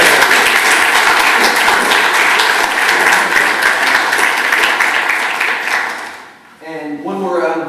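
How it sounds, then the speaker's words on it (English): A conference hall audience at PyCon Austria gives loud, sustained applause for the event's timekeeper, with dense clapping that fades toward the end as a voice begins speaking. "one more round of applause for Ben, our timekeeper"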